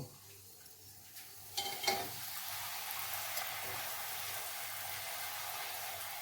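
Puri frying in hot oil on a gas stove, a faint steady sizzle that swells after a couple of soft clinks and then continues evenly, without talking.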